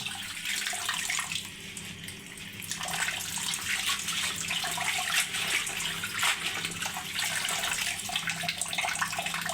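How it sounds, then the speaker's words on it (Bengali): Mustard greens rinsed under a running tap, a steady rush of water splashing close by and continuously for the whole stretch, with no talking. "আগে বালু থাকে তো এর জন্য বেশি করে ধুয়ে নিতে হয়"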